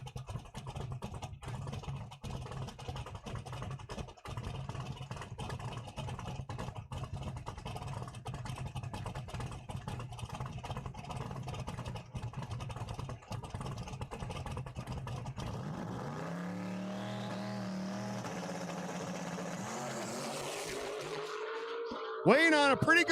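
A gunmetal gray Camaro drag racing down the quarter-mile at Cordova Dragway in a small tire class, its engine roaring steadily before a sharp, rising rev as it accelerates away, with a commentator talking throughout.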